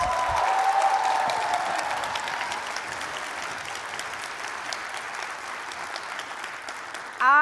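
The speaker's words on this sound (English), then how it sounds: "So let's give Vanderbilt a big round of applause." An audience at a plenary session applauds Vanderbilt University, a broad wash of clapping that starts strong, slowly thins and fades, ending with a sudden louder sound at the very end.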